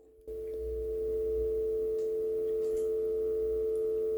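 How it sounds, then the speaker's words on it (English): A steady telephone dial tone from a 1980 Bally Midway Pac-Man telephone starts abruptly after a short silence and holds at an even pitch, clear and close. "One of my favorite sounds back in the 80s to hear that dial tone."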